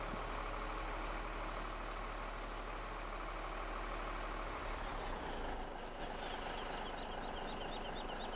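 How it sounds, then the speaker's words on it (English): Trucks idle and unload at a grain silo in Farming Simulator 17, with a steady low engine rumble and a sharp air-brake hiss near the end, heard alone without talk. "just a continual line of trucks here just emptying constantly at this silo king"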